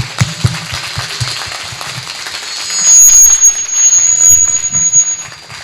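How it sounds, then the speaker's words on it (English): Audience applause for the panelists at the close of a Spanish space-industry round-table discussion, a broad wash of clapping that swells louder midway and carries on to the end, with a faint high electronic tone joining partway through. "So please give them a big round of applause."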